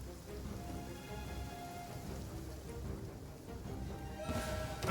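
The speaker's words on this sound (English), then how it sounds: "Oh, how convenient it's raining." Steady rain falls in the video game Genshin Impact, a soft continuous patter with a faint low rumble of thunder, rising to a louder burst near the end.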